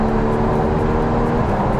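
Porsche 981 Cayman with sports exhaust, a loud, close, steady engine note holding a revving drone throughout, with no talking over it.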